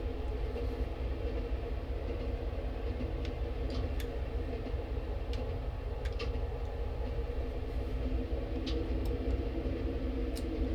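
A train in Train Simulator rolls along with a steady low rumble under gentle braking, with faint ticking and squeaky clicks scattered throughout and no talking.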